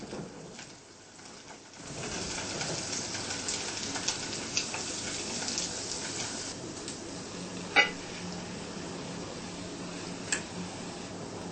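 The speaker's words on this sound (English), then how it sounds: "don't use too hot oil while we are frying, then the rolls will not be bubbling" Steady crackling sizzle of spring rolls frying in oil, continuous and close, with a few sharper pops and clicks.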